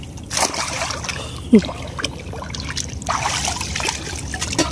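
A fishing net is rinsed and swished in water, giving soft, steady trickling and sloshing close by, with a brief faint voice partway through.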